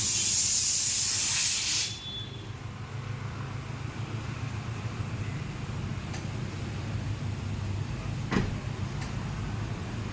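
A car tyre being inflated gives a loud, steady rush of hissing air that stops after about two seconds. A softer background hum follows, with a few faint clicks.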